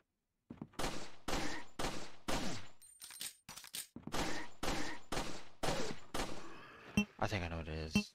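Bursts of gunfire from a scary video game crack out in a rapid string of loud, close shots, separated by short gaps, ending in a denser volley with a harsh ringing tail.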